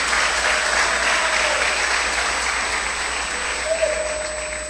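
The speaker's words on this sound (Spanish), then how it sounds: "Dale un aplauso a Cristo." Steady, dense applause from a large church congregation, continuous throughout with no voices standing out.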